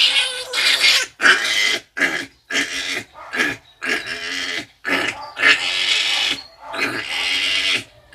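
Two piglets squealing loudly and grunting in short bursts, close by, with brief gaps between each shrill cry in a farm pen.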